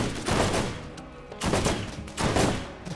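Gunfire in the Borderlands video game: repeated loud bursts of rapid shots in three dense waves, close and harsh, with no talk over them.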